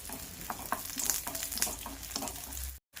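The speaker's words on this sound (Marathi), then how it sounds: "हा घेतलेला 1 चमचा डिंक यामध्ये टाकून छान फुलेपर्यंत आपल्याला तळून घ्यायचा आहे।" Edible gum puffs and fries in hot ghee in a kadhai with a steady, fairly quiet crackling sizzle and a few sharper pops, ending in an abrupt brief silence.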